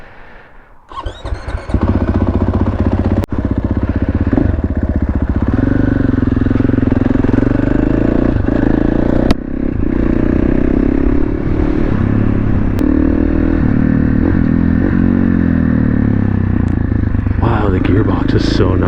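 A 2022 KTM 450 SMR supermoto single-cylinder engine runs loud and close, revving through gear shifts with steady throttle blips, a faint squeal and some clatter.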